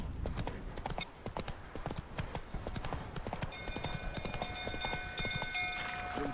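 In the video game The Witcher 3, a horse's hooves clip-clop at a steady trotting rhythm, close and clear, with faint tones and background game sounds over them.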